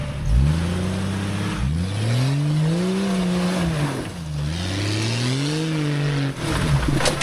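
A $5,000 jalopy Jeep engine revs hard and loud through repeated rising and falling surges as it jumps off-road, the pitch climbing and dropping several times over a few seconds.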